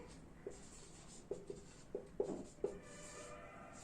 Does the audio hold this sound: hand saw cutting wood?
no